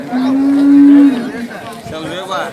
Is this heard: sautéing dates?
no